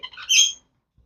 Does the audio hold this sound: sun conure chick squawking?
yes